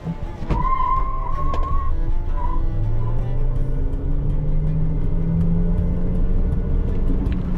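A BYD Sealion 5 DM-i hybrid with a 1.5-liter turbocharged petrol engine and electric motor accelerates in sport mode, its engine note rising steadily from a low hum after a couple of brief chimes.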